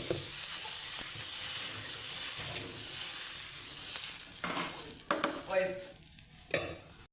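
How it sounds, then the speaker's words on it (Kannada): Adai dosa batter sizzles steadily on a hot pan, a continuous close hiss with a few scraping and clinking touches near the end. "ಇನ್ನೊಂದು ದೋಸೆ ಕೂಡ ಹಾಕಿ ತೋರಿಸ್ತಾ ಇದ್ದೀನಿ."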